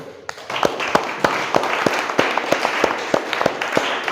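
Classroom students clapping in a scattered, uneven burst of applause, sharp individual claps ringing out close by over several seconds with no talking.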